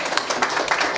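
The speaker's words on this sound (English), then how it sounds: "give him a round of applause." Audience applause for comics artist Ronald Wimberly at a talk, a short, close burst of brisk, overlapping claps from a small crowd, loud and continuous for about a second.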